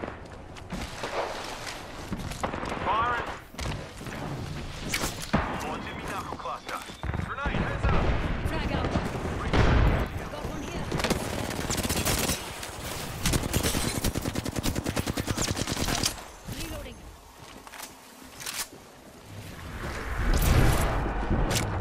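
Rapid bursts of gunfire in the battle royale game Apex Legends crackle through a busy firefight, with sharp single shots and automatic strings scattered across the stretch, mixed with footsteps and game noise while a person talks over it.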